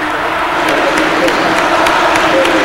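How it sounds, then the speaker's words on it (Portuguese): Stadium crowd at La Bombonera applauding a player substitution during a 2000 Copa Libertadores semifinal, Boca Juniors against América of Mexico: a loud, steady wash of clapping and crowd roar, continuous throughout with no pauses. "Vai sair aplaudido e vai entrar super aplaudido o jogador Palermo."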